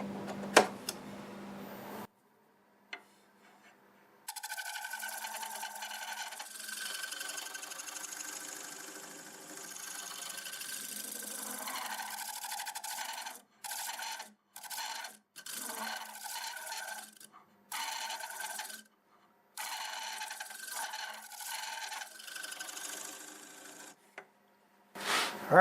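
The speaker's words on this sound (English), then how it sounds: "I'm going to go over this with a negative scraper" A steady rasping scrape of a negative scraper against spinning wild cherry wood on a lathe runs in long strokes, broken by short pauses, over the low hum of the turning machine.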